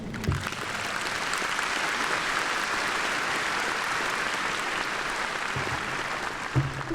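A large commencement audience at the University of Louisiana Monroe breaks into sustained, steady applause welcoming a judge to the podium, loud and full throughout with a few brief voices near the start and end.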